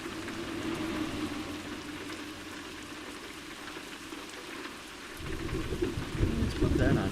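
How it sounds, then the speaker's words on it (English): Steady heavy rain with rumbling thunder from a thunderstorm in the video game The Sims 4, a constant wash of downpour that swells louder near the end as deeper thunder rolls in, with no talking. "Just listen to the rain."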